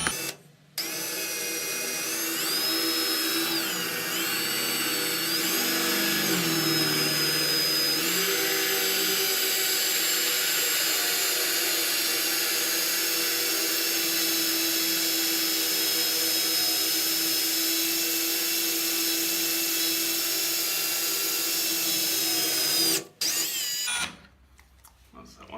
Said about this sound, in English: So I put it on normal drill, and then yeah, just kept on drilling